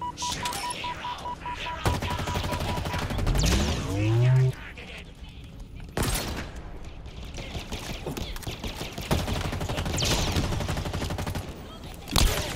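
Several sharp mangler pistol gunshots fire in a Halo Infinite campaign fight against Grunts, loud bursts spaced a few seconds apart over dense game noise, music and effects.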